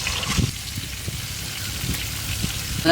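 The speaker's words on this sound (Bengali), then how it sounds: "এদিকে এক কোলা ভাজা চলছে, ওদিকে কোকন্দা ভাজা চলছে।" Food sizzles steadily in hot oil in a pan over an outdoor cooking fire, with a continuous crackling hiss and a few soft stirring knocks near the end.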